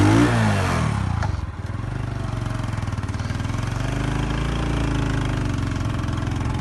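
A motorcycle engine sputters as it starts, then settles into a loud, steady, close idle with a rough, even putter.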